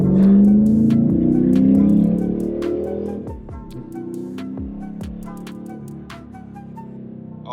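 A Dodge Hemi car engine pulls hard as the car accelerates around traffic, a loud low drone rising in pitch, then easing to a steadier cruising hum with faint ticks and road noise.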